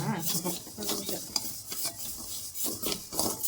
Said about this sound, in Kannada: ಹಾಗೆ ನಾನು ಸ್ವಲ್ಪ ಹುರಿಬೇಕಂತ ಹಾಕೋಣ